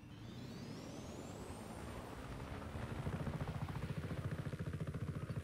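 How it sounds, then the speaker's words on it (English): A helicopter in the video game Just Cause 3 whines as it spins up, then settles into a steady low rotor thumping that grows louder and more rhythmic in the second half, with no talk. "I'll be taking this chopper to get there."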